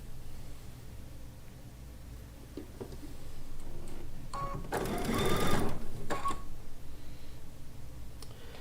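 A home sewing machine chain piecing quilt blocks for a Lacey Log Cabin quilt top, a steady mechanical running rattle close by that swells louder mid-stretch with a brief burst of stitching, then settles back.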